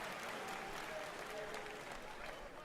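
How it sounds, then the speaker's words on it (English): Audience applause at Bethesda's E3 2019 presentation, a steady broadband wash of clapping from a large crowd filling the whole stretch at moderate, even loudness, with faint talk beneath. "I'm really surprised that got applause."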